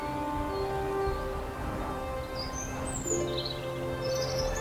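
Birds call in the Petén jungle of Guatemala at dusk, several chirps and whistles at moderate distance over a steady droning hum of insects.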